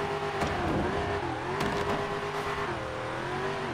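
Koenigsegg Jesko supercar engine in a GTA roleplay game, a steady loud roar with rising and falling revs and a sharp burst near the start, running continuously throughout.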